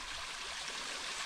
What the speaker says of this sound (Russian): Вот это водопадик.